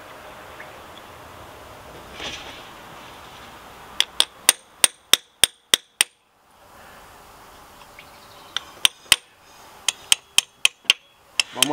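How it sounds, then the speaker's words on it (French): Sharp metallic hammer blows drive a chisel against a part of a Peugeot 308, coming in two quick bursts of evenly spaced strikes with a short pause between them. "Donc je vais prendre le burin, je vais taper en bas."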